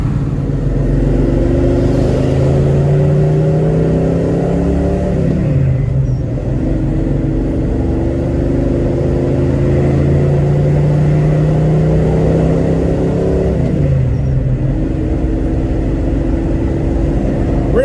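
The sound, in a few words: 1972 Chevrolet Nova driving down the road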